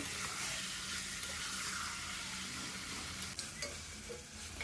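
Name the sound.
chicken being stir-fried with spice masala in a pan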